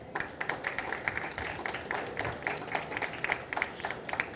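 Audience applause welcoming debate moderator Augusto Terra, director of #Food, at a panel on post-consumer waste and packaging; light, steady clapping from a modest crowd, fairly soft and continuous.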